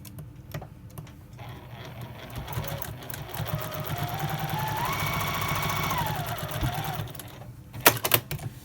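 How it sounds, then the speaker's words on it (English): A sewing machine runs steadily, stitching a quilt-as-you-go square face down onto a front sashing strip, its motor hum rising and holding for several seconds before slowing to a stop, with faint handling clicks at the end. "you just are going to sew the front sashing here"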